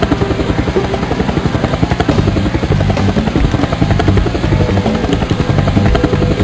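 Helicopters in the Fighters Anthology flight combat game, a loud steady rotor chop with rapid rhythmic thumping over an engine whine, continuous and close.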